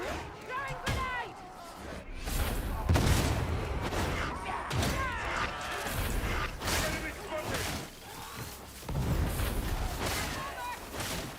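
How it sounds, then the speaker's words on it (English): Grenade blasts in Warhammer 40,000: Darktide boom repeatedly through a chaotic battle, with heavy thumps and crackling impacts under voices. "Grenade! Grenade! Throwing grenade!"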